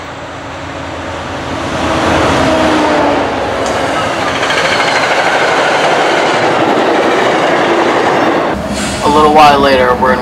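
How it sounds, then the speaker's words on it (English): Keolis 7517, an MBTA commuter train, rushes through North Grafton at the Grafton Upton interchange at track speed, a loud sustained roar with rhythmic wheel clatter filling the whole span, and a horn-like tonal burst near the end. "First train we see is Keolis 7517, with nothing exciting on it in North Grafton at the Grafton Upton interchange, with came through at very high speed, at track speed"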